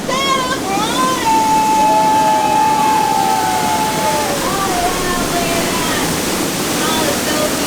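A large water feature at Magic Kingdom, Walt Disney World rushes in a loud, constant wash of falling water, with a voice and whistling tones gliding over it.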